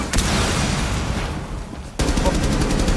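Gunfire in a Rainbow Six Siege match: loud bursts of rapid automatic shots, a dense volley that thins out before a sharp cut into another burst near the end, close and punchy.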